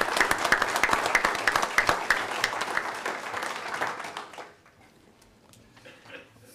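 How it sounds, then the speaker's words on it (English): Audience applause at a county commissioners meeting, a crisp patter of many hands clapping for about four seconds, then fading out to a quiet room with a few scattered claps. "I suggest we applaud the Boys and Girls Clubs for the fine work that they do."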